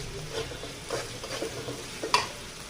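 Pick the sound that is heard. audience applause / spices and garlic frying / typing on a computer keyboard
spices and garlic frying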